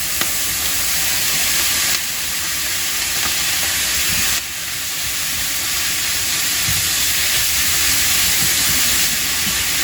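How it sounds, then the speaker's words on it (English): Onions sizzling in a hot wok for fried rice, a loud, continuous hissing roar of frying that holds steady for about ten seconds with small shifts in intensity and no voices. "Now the next thing that's going to happen is we're going to add the onions."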